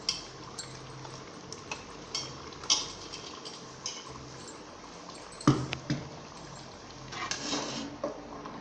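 A spoon scrapes and clinks against a pot while stirring chicken curry with ginger garlic paste, giving intermittent metallic knocks over a low simmering background, close and moderately loud, with no talking.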